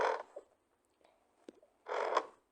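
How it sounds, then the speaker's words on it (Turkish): A door creaks open in two drawn-out groaning bursts at the start and end, with a short click in between, close and otherwise quiet. "Şimdi kapı, kapımızı açalım."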